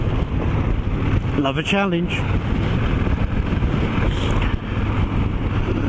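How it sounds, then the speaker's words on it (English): Strong wind buffets the microphone while riding a motorbike outdoors, a steady loud roar throughout, with a brief tonal sweep near the start and a voice speaking briefly over it. "Probably not the wisest choice to come out on a motorbike in these winds"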